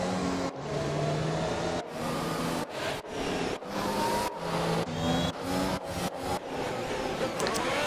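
An F1 race car in an Xbox racing game at the Azerbaijan Grand Prix revs and accelerates, engine pitch climbing and cutting out in repeated short bursts as it shifts through gears.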